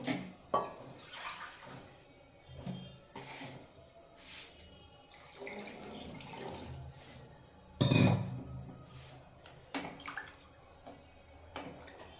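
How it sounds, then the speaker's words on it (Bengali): Water splashes and trickles as a bowl is washed and water poured in, with clinks of dishes and a short rush of pouring near the middle, loud and close. "বাটিটা ধুয়ে একটু জল দিয়ে দেবো"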